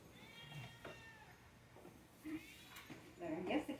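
A cat meows faintly in a kitchen, a few quiet, drawn-out calls heard under a person talking nearby.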